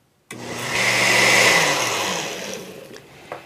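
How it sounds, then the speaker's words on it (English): A kitchen blender whirs shredded cabbage into a slurry for fermented sauerkraut. A loud, steady motor whine starts abruptly, holds for about three seconds, then eases off with a small clatter at the end. No one speaks. "you want to just shred enough cabbage to put it into the blender and get this slurry going"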